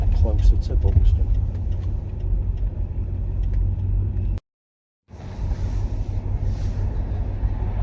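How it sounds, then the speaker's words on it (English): Steady low rumble of a Triumph Stag's engine cruising on a road behind a Rover P6, continuous and close, broken by a brief cut to silence before resuming. "In a Triumph Stag, following a Rover P6."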